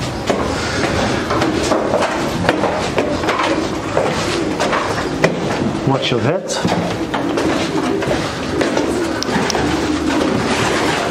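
Racing pigeons coo steadily inside a Belgian loft, a dense chorus of nearby soft, throaty calls running throughout, with a person speaking briefly over them and a short door-like knock midway.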